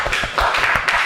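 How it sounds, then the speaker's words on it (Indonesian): A classroom of students clapping for a classmate named Anissa, a brief burst of scattered handclaps with a few louder claps standing out, heard alone with no talking. "Ya, tepuk tangan ya buat Anissa ya."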